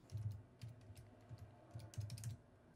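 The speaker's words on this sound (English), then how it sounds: "Tap the Windows key on your keyboard and start typing your equation" A computer keyboard on a Windows PC is typed on in quick irregular bursts of soft clicks, faint and close, with no voices.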